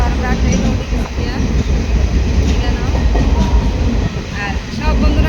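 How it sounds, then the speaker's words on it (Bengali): Steady rumbling train ride with a continuous low roar and faint rhythmic clatter from the rails. Voices talk over the noise. "করে যাওয়ার আমরা ট্রেনে উঠে গেছি গিয়া।"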